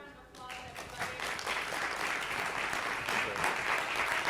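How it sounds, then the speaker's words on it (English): Conference crowd at a panel discussion in Dubai claps for the panelists, starting briefly under a voice, then swelling into steady, moderately loud applause that carries to the end. "Give them a round of applause"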